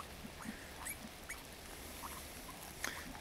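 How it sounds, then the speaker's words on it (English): Faint, high squeaks from a litter of six newborn piglets come in scattered short bursts over a soft rustling background, fairly quiet and without any talking. "Little squeaky piglets."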